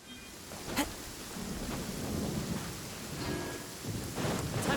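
Steady rain downpour with rumbling thunder in the video game Genshin Impact, a continuous wash of falling rain with a couple of sharper thunder cracks near the start and end, no talking.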